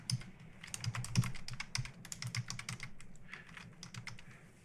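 Rapid keyboard typing, a quick run of crisp clicks with brief pauses, close and fairly quiet.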